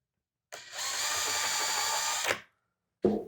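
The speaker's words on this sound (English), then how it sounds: "Drill me a small hole right there." A small drill whirs steadily for about two seconds with a high, buzzing tone, drilling a small hole in a noodle board stove cover, then spins down and stops; a brief clatter follows.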